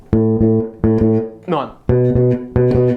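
Short, punchy bass guitar notes in unison hits from a song, struck together in a repeating pattern, each sustained briefly before cutting off, with a quick melodic fill in the middle.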